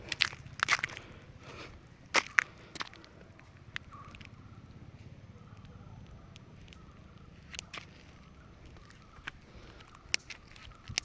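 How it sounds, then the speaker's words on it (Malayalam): Sparse, irregular crackles and pops of dry grass burning on a rocky outcrop during a forest fire, faint and somewhat distant over a low background rumble. "പുല്ലൊന്ന് കത്തുന്നത് കണ്ടോ"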